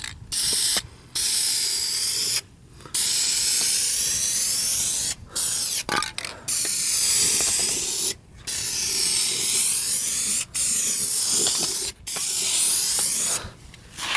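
Undercoating sprayed from an aerosol can onto car trim in a series of loud, close hissing bursts separated by short pauses, with the faint rattle of the can between sprays.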